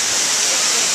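Steady broadband roar of a waterfall echoing in a narrow canyon, constant and fairly close with no break, filling the whole second.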